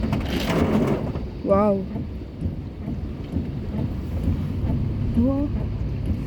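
Heavy early-morning rain pours down during flooding, a constant loud roar with low rumbling like thunder, while a nearby voice briefly exclaims twice over it.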